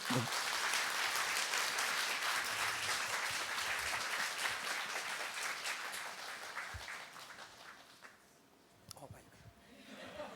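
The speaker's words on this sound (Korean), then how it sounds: "박수로 좀 격려해 주실까요?" A church congregation at a Sunday worship service applauds in encouragement, a dense burst of clapping and some chuckling that tapers off near the end before a voice resumes.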